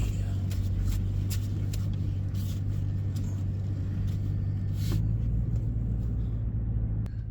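Car driving to work on a rainy day with localized flooding, a steady low engine and road rumble throughout, close and continuous, with faint clicks and no clear talking.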